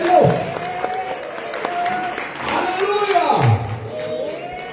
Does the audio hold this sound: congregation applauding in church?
yes